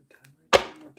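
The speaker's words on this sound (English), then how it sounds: "And shuffle one more time." Tarot cards shuffled in one quick burst, a single sharp riffle close by that trails off softly, with faint voice murmurs before it.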